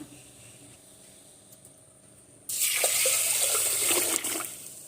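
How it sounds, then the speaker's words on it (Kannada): Water gushes into a pot of horse gram after a quiet start, a steady close splashing pour that runs to the end. "ಇದಕ್ಕೆ ಎಷ್ಟು ಬೇಕು ಅಷ್ಟು ನೀರನ್ನು ಹಾಕ್ಕೊಳ್ಳೋಣ."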